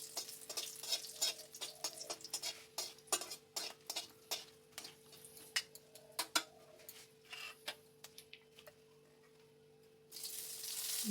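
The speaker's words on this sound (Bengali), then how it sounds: "শুকনো লঙ্কা ফোড়ন দিয়ে দিলাম" Dried red chillies and bay leaf tempering in hot oil in a kadai, a soft steady sizzle broken by sharp clicks and taps, likely a spoon against the pan, with a louder burst of hiss at the end.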